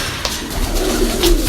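A pigeon coos softly at close range, with a low, throaty rolling note against a busy outdoor background in Rawalpindi.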